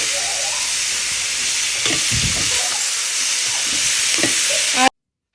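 Vegetables cook in a pan in a home kitchen with a steady, loud sizzling hiss that runs unbroken for about five seconds. A few faint stirring scrapes sit under it before it cuts off abruptly.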